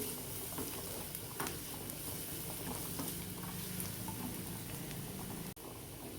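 Vegetables, including grated beetroot, stir-fried in a hot pan for restaurant-style schezwan fried rice give off a steady, dense sizzle and crackle that runs unbroken and close, with a brief dip near the end.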